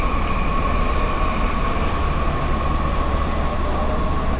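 Steady rumble of an empty, old-style metro train on the move in Kyoto, a dense, even drone of wheels with a faint, constant tonal whine and no voices.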